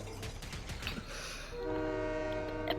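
A Fortnite train rumbles along, then a sustained horn-like tone sounds over the low rolling noise, moderately loud and steady with no voices.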